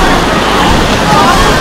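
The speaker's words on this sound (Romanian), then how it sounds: "La valuri!" Artificial waves churn and splash in an indoor spa wave pool at Hungarospa Hajdúszoboszló, a loud, steady wash of surging water filling the space with no pause.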